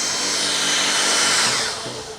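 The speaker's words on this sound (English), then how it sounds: "So we'll hit that with the blower really quick." A blower blasts debris from under a car in a garage, a loud continuous whooshing roar that holds for a couple of seconds before easing off slightly at the end.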